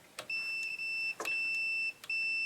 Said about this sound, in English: So the earth should hear a beep.